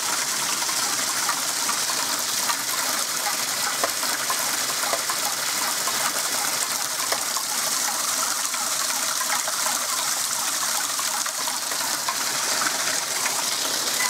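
Water pours steadily over a small waterwheel experiment, a continuous loud rushing gush, close and unbroken, with faint mechanical ticking underneath.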